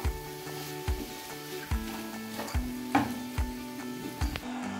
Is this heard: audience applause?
no